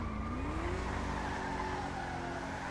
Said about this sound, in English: Is that a hunter car? Yeah,